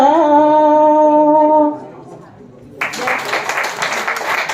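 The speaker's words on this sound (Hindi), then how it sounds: "जोरदार तालियों से अभिनंदन।" A sustained sung devotional note fades out at a World Book Day panel event, and after a brief lull a crowd breaks into loud, continuous applause.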